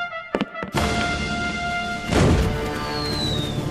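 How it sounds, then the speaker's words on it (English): A sharp crack is followed by a deep booming blast that rolls on and fades, loud and close. "I ordered my cannon to fire when they get into position."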